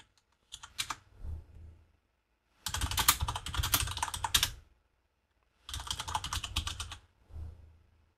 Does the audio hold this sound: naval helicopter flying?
no